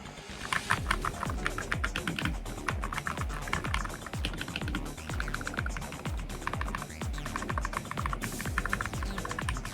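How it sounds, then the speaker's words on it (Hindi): Rapid, steady typing on a mechanical keyboard, dense clicky keystrokes recorded up close with no voices, a continuous satisfying clatter throughout. "तो मैकेनिकल कीबोर्ड का जो साउंड होता है"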